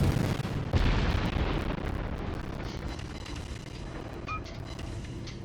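Ship guns firing in a naval warship game, a dense rumbling barrage with a heavy boom near the start, then a steady roar of distant gunfire and faint pops fading over several seconds.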